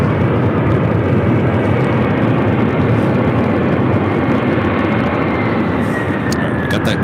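A Boeing 747, the "Queen", arrives loud and close on the south side of LAX, a dense continuous jet roar that holds steady throughout with a faint whine on top.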